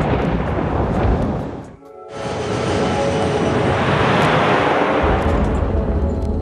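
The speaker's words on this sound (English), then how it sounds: "they head straight into the thunderstorm" A heavy thunderstorm rumbles and roars, loud and sustained with a broad wash of noise, briefly dropping out then surging back, as an airliner makes its final approach into the storm.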